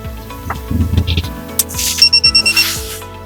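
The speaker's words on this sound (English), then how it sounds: "You're going to hear a series of beeps coming from the Go device." A quick series of bright electronic beeps from a Geotab GO9 vehicle tracking device connected to an OBD2 port, some in rapid bursts, with tonal chirps between them, close and clear.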